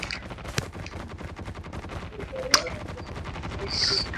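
Call of Duty game gunfire, a few sharp shots and short bursts at moderate level over a busy background, with a voice briefly heard.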